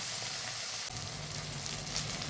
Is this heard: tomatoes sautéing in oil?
yes